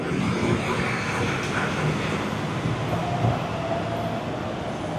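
An elevated skytrain runs at Phasi Charoen station in Bangkok, heard as a loud, steady rumble and rush that lasts the whole five seconds, with no clear talk over it.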